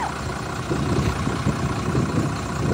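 A 2014 Mercedes-Benz Atego 1524L Unvi Touring coach idles with its front-mounted engine close by, giving a steady, loud low rumble that continues for the whole moment with no voices.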